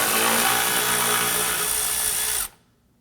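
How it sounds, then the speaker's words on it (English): An 8mm socket on a power driver spins hard to loosen a bolt on a 2015-2020 Ford F-150 while the washer reservoir is removed, a steady loud whirring buzz for about two and a half seconds that cuts off abruptly into near silence. "Now we're going to use our 8mm on our socket to loosen and remove this bolt."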